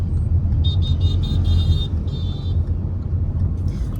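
Police vehicles crawl along a jammed road during a blockade in Malda, producing a loud, steady low engine rumble, with a series of quick high beeps partway through.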